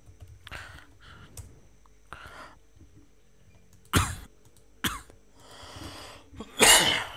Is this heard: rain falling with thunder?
no